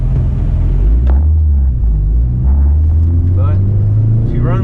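Mitsubishi Galant VR-4 heard from inside the cabin while driving: a steady low engine rumble with rising and falling pitch through gear changes, constant and close throughout.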